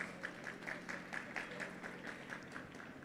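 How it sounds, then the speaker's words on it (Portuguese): Audience applause welcoming a speaker onto the stage at a startup innovation event in Rondônia, a steady moderate patter of clapping from a seated crowd, fairly distant and even throughout. "Os aplausos."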